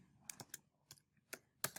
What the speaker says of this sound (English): So I am typing here our test site